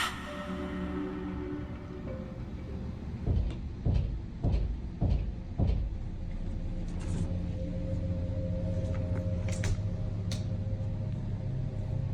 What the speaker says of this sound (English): The alarming sound of knocking was coming from his closet.